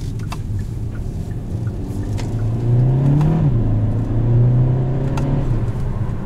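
A turbocharged 2020 Kia Soul GT Line accelerating on a back road, heard from inside the cabin as a steady engine drone rising in pitch and then settling, with road rumble underneath.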